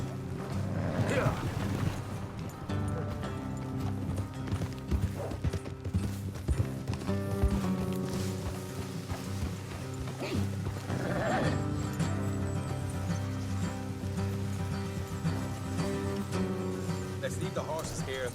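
Horses in the Red Dead Redemption 2 video game clop along a road and whinny, with steady hoofbeats under a busy game soundscape while people talk over it.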